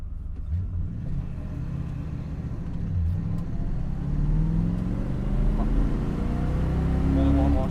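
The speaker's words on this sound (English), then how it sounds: "Just as I started the car in motion" A touring-class race car on a track day pulls away from the start, its engine rumble rising steadily in pitch and strength as it accelerates, close and continuous with no speech heard.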